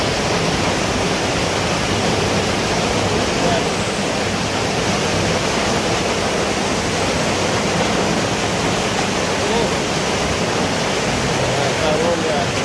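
Heavy rain pours down at night as a dense, steady roar of broadband noise that stays loud and unbroken throughout, with no distinct voices rising above it.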